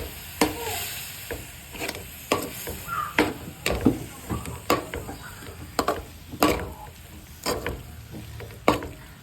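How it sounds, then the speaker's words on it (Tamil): Chicken biryani with mint and meat is stirred in a pot, giving repeated close scraping strokes at an uneven rhythm over a constant frying sizzle. "புதினா அது கூட இறைச்சி போட்டு நல்லாவே மிக்ஸ் பண்ணிக்கணும்."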